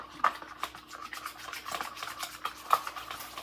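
A spoon or whisk works water into pizza dough ingredients in a bowl to break up the clumps, giving close, steady scraping and rubbing strokes with a few light clinks and no talking.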